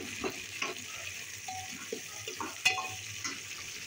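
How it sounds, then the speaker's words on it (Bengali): Chopped onions with whole spices are stirred and sautéed in a pan, with a faint close sizzle broken by soft scraping strokes and one sharp clink of a utensil against metal. "ভালো করে পেঁয়াজটা এর সাথে সতে করে নিতে হবে"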